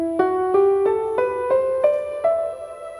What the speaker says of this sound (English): a natural minor scale sounds like this.